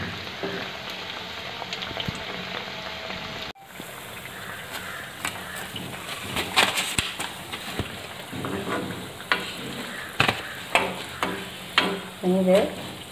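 Banana fritters (pazhampori) fry in hot oil with a steady sizzle, broken by louder bursts and stirring clatters as pieces are moved about in the pan.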